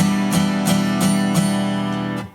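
A guitar chord is strummed five times in an even rhythm without staccato, each strum ringing on into the next before fading at the end.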